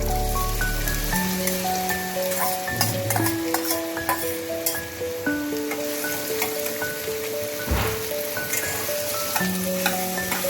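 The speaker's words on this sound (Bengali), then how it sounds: "এবার এর মধ্যে আমি দিয়ে দেবো কেটে রাখা আলুগুলোকে" Cut potatoes frying in oil tempered with black cumin seeds for a potato-poppy-seed dish, a steady loud sizzle and crackle throughout, with occasional stirring clinks over a background melody.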